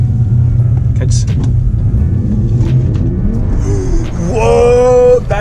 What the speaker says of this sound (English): Whoa, back wheels are spinning.